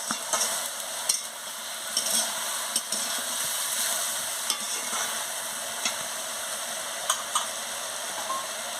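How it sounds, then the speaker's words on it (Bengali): Onion-stalk curry with chili and turmeric powder being stirred in a pan, a steady sizzling fry hiss running throughout with soft scraping taps of the spoon at irregular intervals, close and alone without talk. "দিয়ে ভালো করে নাড়িয়ে নিচ্ছি"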